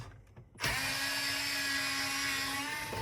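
A cordless power screwdriver spins up sharply and runs steadily for a couple of seconds, backing a screw out of a Range Rover Sport's dashboard trim during a 12.3-inch screen installation, close and alone.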